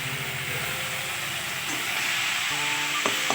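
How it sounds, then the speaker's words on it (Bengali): Cabbage frying in a pan gives a steady, close sizzling hiss throughout, with faint clinks of stirring near the end. "বাঁধাকপিটা রান্না করে নিই"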